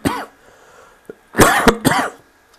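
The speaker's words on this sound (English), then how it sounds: "I really should stop talking because I'm coughing like hell." A person coughing hard and close to the microphone: a short harsh cough, then two heavier rasping bursts in quick succession with throat-clearing, separated by near silence.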